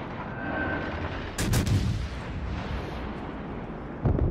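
Heavy naval guns on the Italian tier IV cruiser Montecuccoli fire armour-piercing shells in World of Warships, a sharp broadband salvo boom at about 1.4 s with rumbling tail, another blast near 4 s, over steady battle ambience.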